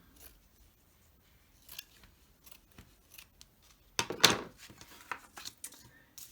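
Scissors snip through paper while Christmas cards are being made, a few quiet cuts early on, then a louder close burst of crisp snipping and crunching halfway through, followed by scattered lighter cuts.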